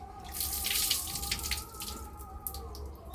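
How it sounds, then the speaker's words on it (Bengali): Water runs steadily from a tap while hands are washed beneath it, with splashing and dripping that is close but soft and has no other sound on top. "এখন হাত ধুয়ে নেবে"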